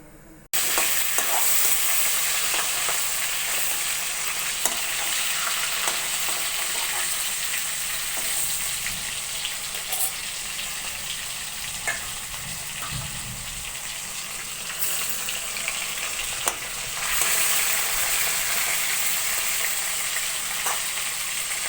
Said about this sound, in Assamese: মই এতিয়া মাছ ভাজিম